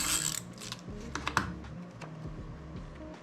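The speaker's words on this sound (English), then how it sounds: "we're just gonna tape him down real quick" A magazine cutout is taped down onto a mini zine in a series of close, crisp clicks and light tape crackles, with irregular taps at moderate volume and no talking.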